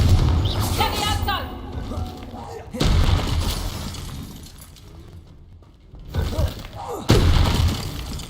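Confringo blast spell cast in Hogwarts Legacy: booming, shattering bursts with crashing debris erupt over a busy combat mix of thumps and clatter, fading back in and out across the stretch.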